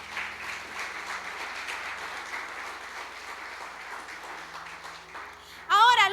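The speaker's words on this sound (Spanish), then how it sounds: "Dale un fuerte aplauso al Señor." Church congregation applauding steadily for several seconds, a broad even wash of clapping that fills the space, with a brief musical swell at the end.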